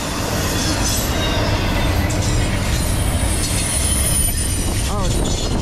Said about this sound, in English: First train of the day.